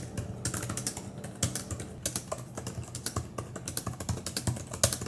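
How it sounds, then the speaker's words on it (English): Steady, brisk typing on the aluminum keyboard of an M4 iPad Pro, a dense run of close, crisp key clicks with uneven rhythm and a few louder strikes, with no voices. "the keys feel really nice to type on"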